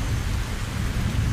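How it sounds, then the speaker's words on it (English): Steady heavy rain with deep rolling thunder in a stormy scene, a continuous loud wash with a low rumble underneath throughout. "Isn't it a bit rainy today?"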